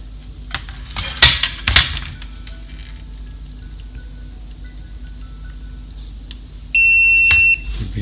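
Clicks and taps of handling, then a multimeter continuity tester's sustained high beep sounds for under a second near the end, testing a fuse on an MSI AMD HD 7970 graphics card.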